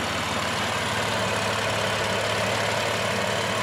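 BMW M4 engine idling steadily with a low, even drone and no changes in revs, heard close throughout.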